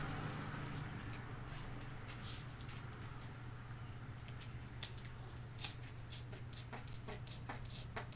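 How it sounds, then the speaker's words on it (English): Scissors snip the corners off a sewn fabric ID pouch, a quiet run of short crisp cuts with several clustered snips toward the end over low background hum. "you're just going to cut those corners off"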